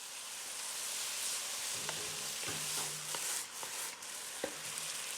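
Beef with green onions stir-fries in a pan, a steady close hiss of sizzling with a handful of short scraping and knocking strokes from stirring, no voices.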